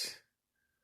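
A single sharp sneeze bursts out close by, loud and bright for a fraction of a second, then fades into near silence with only a faint thin tone trailing afterward.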